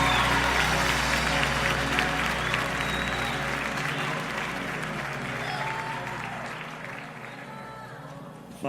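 Congregation in a church applauds loudly under worship music, a dense wash of clapping that holds strong and then gradually thins out over several seconds while a low organ-like tone sustains underneath.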